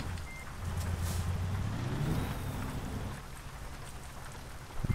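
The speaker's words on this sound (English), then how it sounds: "It started raining." Rain patters steadily in American Truck Simulator, a continuous hiss under a truck's low engine drone that rises briefly, without talk.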